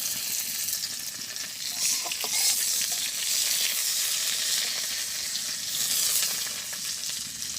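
Crushed garlic and two bay leaves fry in hot oil in a village kitchen, giving a steady, close sizzle and crackle that runs without a break, with no talk over it.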